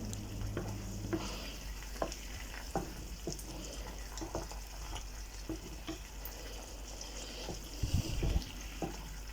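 Ginataang chicken being stirred in a pan as it cooks, a steady sizzle and bubbling with repeated scraping clicks of the utensil throughout, close and fairly even, briefly louder near the end.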